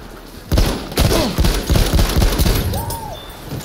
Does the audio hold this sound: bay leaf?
no